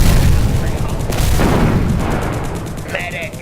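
A gunshot boom in a costumed comic-book fantasy battle scene, a loud burst at the start that fades into rumbling noise over a few seconds, with a voice underneath.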